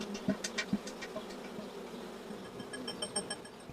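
Honeybees return to the hive, heard as a faint insect buzz with a few closer passing hums and soft thuds.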